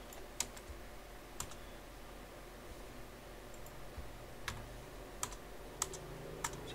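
Keys on a computer keyboard tapped in sparse, isolated clicks, a few quick presses spaced out over a quiet room hum, like deleting text one stroke at a time.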